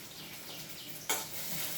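Onion frying in a pan gives a steady close sizzle that runs without a break, with one brief louder crackle near the middle.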